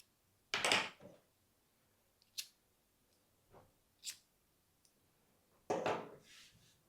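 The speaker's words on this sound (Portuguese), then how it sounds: "Eu já posso cortar esse fio." Scissors snip crochet yarn for a large crochet bag, a few sharp, close cuts and soft handling noises spaced out over quiet pauses, with no speech.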